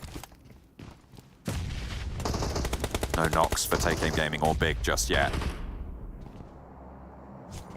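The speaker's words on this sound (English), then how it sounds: "Plenty of gunfire though" Rapid automatic gunfire crackles in dense, overlapping bursts during a PUBG Mobile Pro League Western Europe Finals match, loud and continuous for several seconds under an excited caster's commentary.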